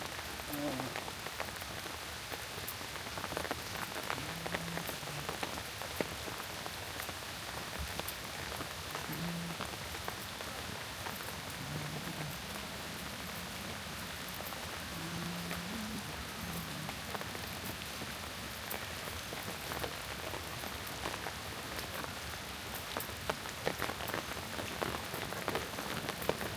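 Steady rain pours onto a wet village road, a dense continuous hiss of drops with a few faint voices murmuring in the background.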